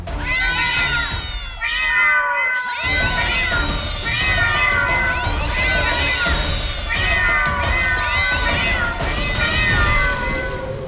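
Several domestic cats meow in a continuous, overlapping chorus of rising and falling cries, loud and close, filling the whole stretch with only a brief pause near the start.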